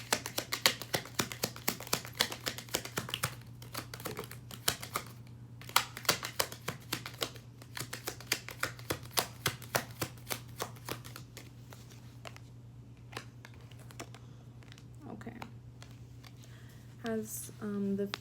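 Cards from a crystal tarot deck are shuffled close by in quick repeated riffles and soft taps over a constant low hum, slowing toward the end where a voice briefly speaks.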